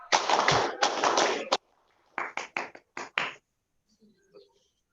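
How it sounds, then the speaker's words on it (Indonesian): Scouts at a Pramuka assembly doing the single Pramuka clap: a long run of dense group claps, then a tighter burst of about five sharp rhythmic claps, fading to quiet. "Sekali tepuk pramuka"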